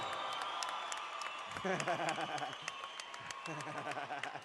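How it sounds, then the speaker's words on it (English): Arena crowd at a cage-fighting event claps and cheers for two fighters, lively applause with whoops while a voice speaks over it. "A loud round of applause for these two fighters."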